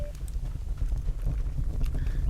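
Horse hooves clip-clop in the online game Star Stable Online, a steady run of low thuds under game ambience with no talk.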